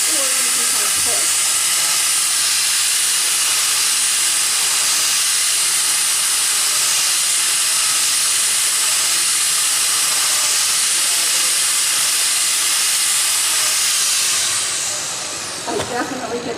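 Angle grinder power carving a wood piece, smoothing a rounded furrow: a loud, continuous broadband hiss and whine held steadily for most of the clip, dropping away near the end.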